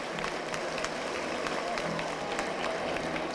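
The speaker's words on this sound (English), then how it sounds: "they deserve a round of applause" A crowd at a club dancing final applauds the dancers with dense, continuous clapping, a roomful of hands blending into a steady wash with occasional sharper claps and murmuring voices beneath.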